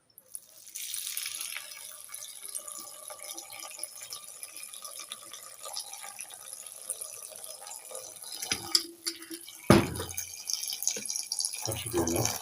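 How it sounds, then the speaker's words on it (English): Water pours steadily into a pot for brewing herbal tea, a continuous splashing stream that shifts in pitch as it fills, with a clunk near the end and a voice speaking briefly. "Okay, now add water."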